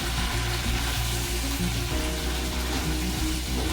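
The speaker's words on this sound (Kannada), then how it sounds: "ರೀ ಕೊತ್ತಂಬರಿ ಫಸ್ಟ್ ಎಣ್ಣೆ ಫ್ರೈ ಮಾಡ್ಕೊಂಡು ಚೆನ್ನಾಗಿ ಚೆನ್ನಾಗೆ" Coriander leaves frying in hot oil in a pan give a steady, close, dense sizzle and crackle throughout, with no talking.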